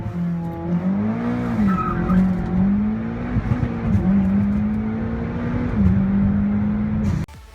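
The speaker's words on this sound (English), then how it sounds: "here's a clip of a Mitsubishi Ralliart having a sick, nasty launch." A Mitsubishi Ralliart's engine revs hard during a launch and holds a high whine as tires squeal, loud and close, then cuts off abruptly near the end.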